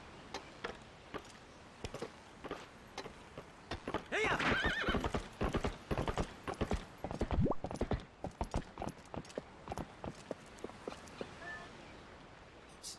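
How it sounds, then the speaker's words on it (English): In the video game Zelda Twilight Princess, a horse's hooves clip-clop in a quick, steady rhythm. A loud neigh or whinny breaks through midway, with faint ticking sounds in the background. "the horse keeps pulling to a side"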